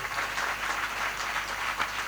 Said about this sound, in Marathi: जोऱ्या टाळी वाजवा एक बार